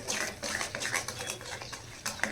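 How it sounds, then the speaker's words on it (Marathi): Egg bhurji being stirred with fried masala in a pan, a steady run of soft scraping and clinking strokes at low to moderate level, close by, with no speech. "त्याच्यामध्ये आता आपण हे छान मिक्स करून घेऊया"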